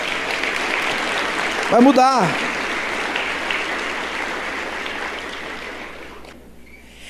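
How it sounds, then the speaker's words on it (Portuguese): Church congregation applauding at an El Shaddai service in Araçatuba, a steady broadband wash of clapping that continues under a preacher's voice, which dominates throughout and fades slightly toward the end. "Quem crê nisso, aplauda o Senhor Jesus."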